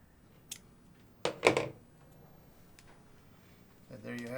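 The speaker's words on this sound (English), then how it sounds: "Trim our braid off." Scissors trim braided fishing line close to a double uni knot: a brief soft click, then a couple of crisp snips close to the microphone, followed by quiet and a voice beginning at the end.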